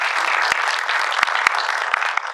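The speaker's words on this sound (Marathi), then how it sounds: "आपण या दोघांसाठी प्रथमतः जोरदार टाळ्या वाजवूयात." Audience at a Marathi cinema workshop breaks into loud, sustained applause, dense and steady throughout with a few sharper claps standing out.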